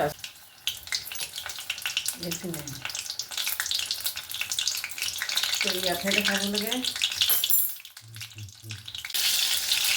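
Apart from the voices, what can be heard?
eggplant chops frying in oil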